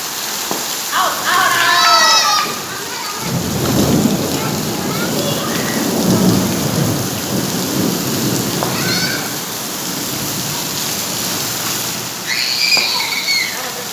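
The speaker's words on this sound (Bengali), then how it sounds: "এই পরিমাণ বৃষ্টি হইতেছে আমাদের এইখানে" Heavy rain pours steadily outdoors during a thunderstorm in a Bangladeshi neighborhood, with low thunder rumbling under it while children shriek and shout as they play in the downpour, their voices rising in bursts at the start and near the end.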